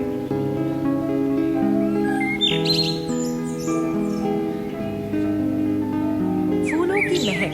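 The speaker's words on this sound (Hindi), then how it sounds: "एक खूबसूरत सुनहरा वाटिका जिसमें चिड़ियों का चहचहाना" Birds chirping in a golden garden, several tweets and calls over a sustained musical backing, fairly loud and continuous throughout.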